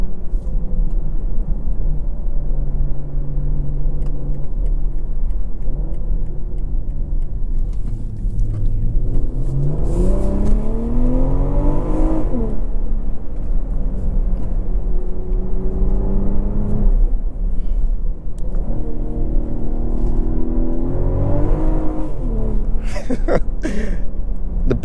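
A 2024 BMW M340i Special Edition with rear-biased X-Drive pulls hard, its engine note rising through steady acceleration with gear-change dips, loud and close throughout a long run with no talk.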